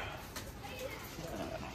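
Pigeons coo softly in a home bird setup, a faint, low murmuring beneath a person speaking nearby.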